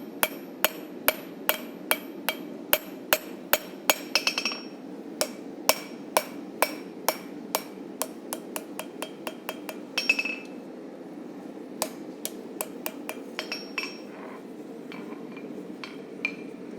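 Steady hammer blows tapering a railroad spike into a knife blade on an anvil, sharp metallic strikes in irregular bursts with short pauses, close and ringing, no talk.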